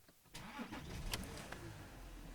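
A 2016 Porsche Cayenne Diesel cranks briefly and fires, its engine catching and settling into a steady, close, muffled idle over a couple of seconds.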